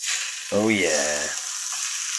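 Chicken strips sizzle steadily in a hot pan, a continuous frying hiss that runs throughout, with a man's brief exclamation briefly over it.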